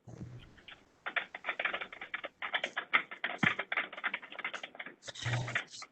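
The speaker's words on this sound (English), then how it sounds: "And I think there's someone typing" Rapid clattering keystrokes on a computer keyboard during an online meeting, a dense run of close, moderately loud clicks with a brief pause before a final burst.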